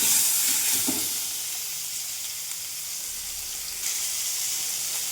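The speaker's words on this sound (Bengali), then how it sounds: "কলমি শাকটা ভেজে নেব।" Kalmi (water spinach) greens fry in a pan with a steady, close hiss of sizzling oil, a few soft knocks early on and a brief swell near the end.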